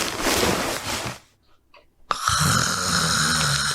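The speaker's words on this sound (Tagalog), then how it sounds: "mahimbing pa rin natutulog at humihilik" A person snores in deep sleep, a rough breathy rasp that fades into near silence and then returns as a louder, sustained snore, close and alone without talk.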